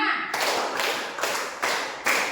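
Five sharp, evenly spaced hand claps from a group in a classroom or religious lesson, each a bright broadband burst with a short tail, fairly loud and close, with no talk over them.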